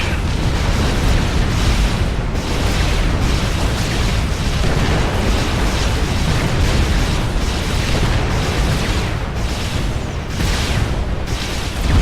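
Units open fire on the enemy commander in the strategy game Supreme Commander, a dense, continuous barrage of loud booms and blasts overlapping for the whole stretch with no let-up.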